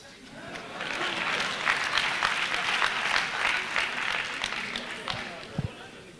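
Audience at a live comedy show clapping: a dense, steady burst of applause from a crowd that rises and holds for several seconds, then thins out into a few last claps, with voices mixed in.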